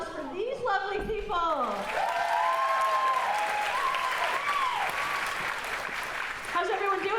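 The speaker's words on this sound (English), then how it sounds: "Let's give another round of applause for these lovely people." An audience at a brunch claps loudly and continuously, a dense wash of applause with voices rising over it at the start and end.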